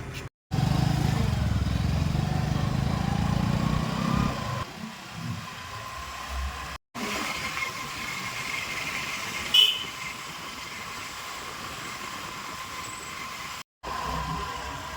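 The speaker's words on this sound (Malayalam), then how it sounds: "എൻ്റെ വണ്ടി ഈ സ്കൂട്ടി കേട്ടോ" A scooter engine runs close by with a steady, droning hum and road noise, interrupted by a few brief cutouts.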